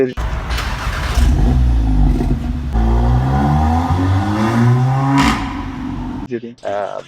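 A modified car with a popcorn-style silencer exhaust revs hard, its engine note rising and falling loudly with sharp pops and crackles, while people talk over it.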